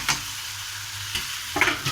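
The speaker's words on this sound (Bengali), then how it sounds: "ভালো করে ভেজে নেব দু মিনিট ধরে" Drained pasta and cooked vegetables sizzle in a hot pan, a steady hiss of frying broken by a couple of sharp scrapes of the spoon stirring, close and clear with no talking.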